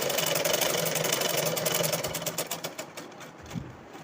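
A sewing machine runs steadily while stitching a blouse lining with a half-inch seam allowance, its motor hum and rapid needle chatter continuous and close before slowing into separate stitches and stopping near the end.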